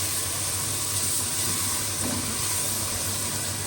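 Green chilies and onions sizzle in hot tadka oil, a steady, even hiss that holds without a break from start to finish.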